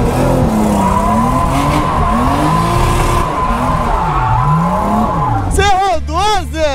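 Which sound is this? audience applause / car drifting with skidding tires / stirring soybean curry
car drifting with skidding tires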